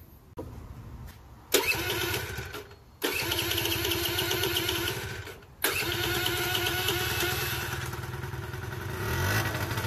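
A moped engine sputters to life, cuts out briefly, then restarts and settles into a steady, buzzy running note close by.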